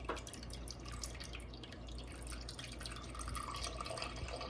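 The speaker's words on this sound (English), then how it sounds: "we'll pour the milk in here, the evaporated milk." Evaporated milk poured from a can into cream of rice for Liberian rice bread, a steady, close liquid trickle with faint dripping running throughout.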